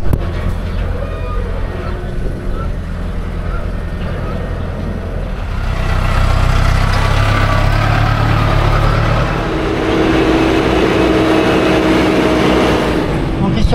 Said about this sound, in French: Et un tracteur qui tasse le silo